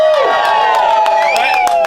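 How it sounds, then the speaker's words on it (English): An outdoor crowd at a rainy taco cooking event cheers and whoops loudly for a couple of seconds, a dense wash of voices with no single speaker standing out. "We had an amazing crowd. Here it is."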